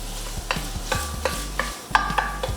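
A whole onion being stirred and coated in butter in a soup pot, several distinct spoon scrapes and clanks over a soft background sizzle, close and clear, without speech.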